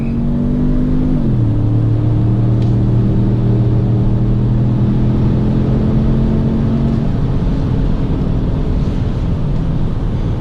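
A 2017 Ford Edge Sport SUV's V6 engine accelerates steadily, its deep drone rising then settling into a constant loud hum with road noise, no voices.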